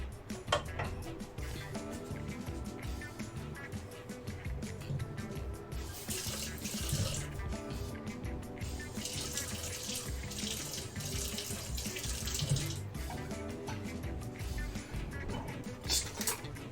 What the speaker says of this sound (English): You want the coldest water you can get out of your faucet